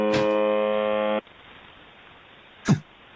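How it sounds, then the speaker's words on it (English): A harsh electronic buzzer tone played from a recording, one loud steady blast lasting just over a second, then low hiss and a short sharp burst near the end. "Keep listening to the buzzers."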